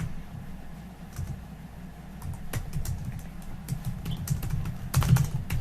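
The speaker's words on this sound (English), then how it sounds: "you're going to see here when I type" Keystrokes on a computer keyboard patter in an irregular, moderately close run for several seconds, with no voices.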